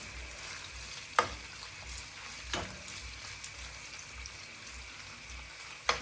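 Pork fries in an open pot as its water cooks off, giving a faint, steady sizzle with a few sharp stirring scrapes.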